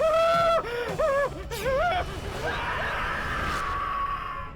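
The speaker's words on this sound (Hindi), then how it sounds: "ये चीख कैसे?" Wailing, gasping scream from a Hindi horror drama, the voice rising and falling in several pitched cries before trailing into a lingering, echoing moan over a dim background.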